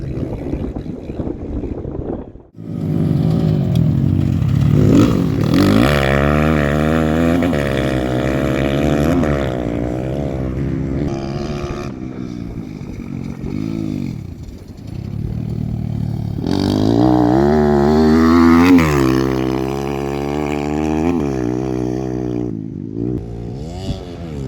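Rally cars at an Indian National Rally Championship round in Coimbatore roar past loudly, engines revving and rising in pitch as they pass, with wind buffeting the microphone and no talking.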